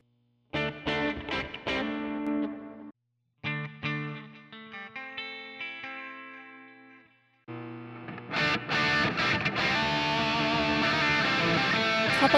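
An electric guitar runs through several Matribox QME-50 multi-effects presets, stopping between short chordal phrases, moving from chorused clean tones to a thick, heavily distorted wall of sound at the end, close and with no talking.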